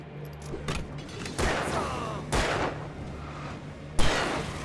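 Enemy gunfire in the video game Alan Wake Remastered, several loud bursts of shots spaced about a second apart over a low game ambience.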